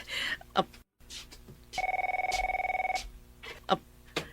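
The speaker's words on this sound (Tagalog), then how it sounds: "Ti telepono." A telephone bell rings in one rapid trilling burst lasting just over a second, loud and close, amid a radio drama's background sounds and clicks.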